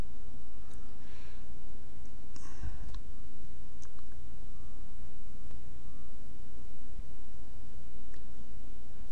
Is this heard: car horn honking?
no